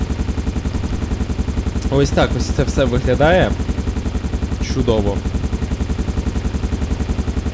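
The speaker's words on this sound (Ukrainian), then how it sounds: "Завели наш е, гелікоптер." A helicopter idles in the GTA 5 video game, its rotor beating in a fast, steady, loud pulse throughout, while someone talks briefly over it.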